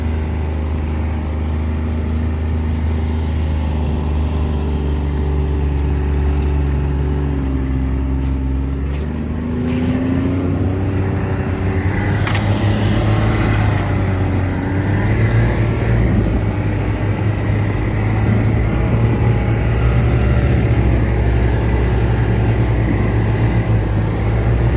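A snowmobile packing a snowshoe trail for fat biking drones steadily for the whole stretch. Its engine pitch rises and falls as it moves, and it stays loud and fairly close throughout.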